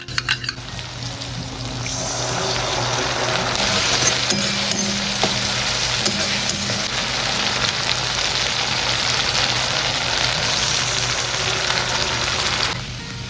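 A cornflour-and-water sauce mixture hits hot oil in a chili chicken frying pan, giving a loud, steady close sizzle and crackle that holds evenly for over ten seconds with faint utensil clinks.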